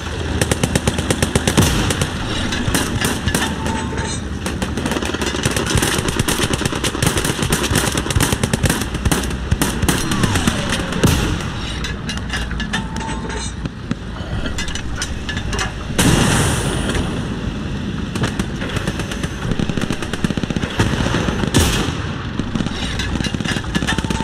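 Machine gun fire in the Hell Let Loose WWII battle game on Omaha beach, with dense continuous rapid bursts layered with distant explosions and battlefield rumble, loud and sustained throughout.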